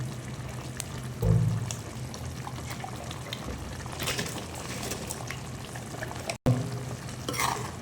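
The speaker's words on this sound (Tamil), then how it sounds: "ஸோ இதில் தண்ணி லைட்டாக மிக்ஸ் பண்ணி ஊற்றிக்கிறேன்" Water poured into a pan of frying masala with ginger garlic paste for an egg gravy, a soft trickle and sizzle with stirring scrapes and a brief louder splash near the start, no talking.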